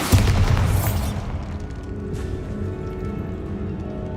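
A loud, booming Bombarda spell explosion from the Hogwarts Legacy video game bursts out sharply at the start, then fades into a lingering low rumble with a faint crackle midway.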